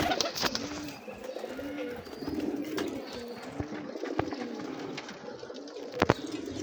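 Repeated soft, throaty pigeon coos roll in overlapping phrases, with a few sharp clicks and rustles nearby.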